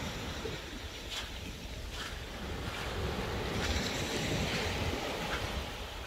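Ocean waves wash in a steady broadband roar with wind buffeting the microphone, rising slightly midway through.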